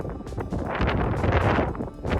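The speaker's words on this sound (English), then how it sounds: "This was from the helicopter pad, and it was very windy." Strong wind buffets the open helicopter pad of a cruise ship, roaring in uneven gusts that swell and ease, loud and blustery against the microphone.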